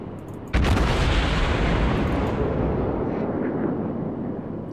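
A World of Warships bow gun salvo goes off with one sudden heavy boom, followed by a long rumbling roar that slowly fades over several seconds.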